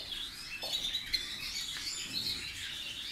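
Yorkshire canaries chirping in a breeding room, a continuous stream of bright, high tweets and trills from several birds close by.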